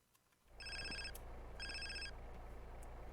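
A phone ringing during a GTA San Andreas game: two bursts of an electronic trilling ringtone over a steady low rumble of game sound, with no talking.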